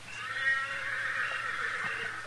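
A horse neighs far off across open Western country at night, a faint, drawn-out whinny sitting low under steady background hiss with no voices.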